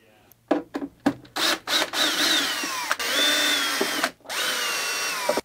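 Power driver backing 2.5mm hex screws out of an InMotion V10 electric unicycle, in short loud bursts, some with a rising whine, followed by longer sustained whirring runs separated by brief pauses.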